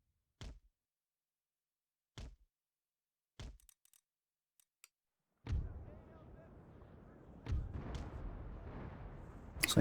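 Ship cannons firing in a naval battle in Empire Total War: three sharp booms spaced apart, a few small clicks, then a heavy rumbling broadside followed by more blasts over a lingering roar.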